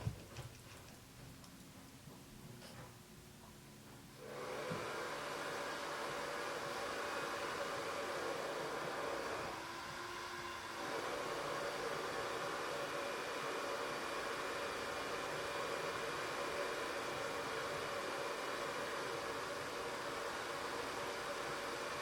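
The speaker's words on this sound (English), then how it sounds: "I'm gonna use a hair dryer real quick for about 10 seconds." A hair dryer blows steadily on an iPhone 4 8GB CDMA screen during a repair, a loud continuous broadband rush that kicks in after a few seconds of quiet and holds, dipping briefly once.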